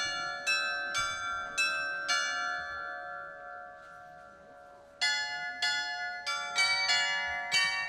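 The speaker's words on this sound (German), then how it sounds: "wenn das Glockenspiel ertönt." A mechanical glockenspiel at the Rüdesheimer Schloss rings out a slow tune of bright bell tones, a run of strikes, a short pause, then a quicker cluster, each note ringing on and decaying.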